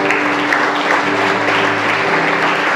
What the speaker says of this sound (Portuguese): Dá um perto de palmas para ele.